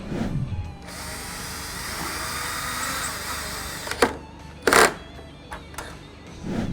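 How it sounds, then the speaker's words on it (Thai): A power drill whirs steadily for several seconds, followed by a few short bursts of the motor spinning up and stopping, close by. "นี่สำหรับไขควงสว่านไฟฟ้านะครับ"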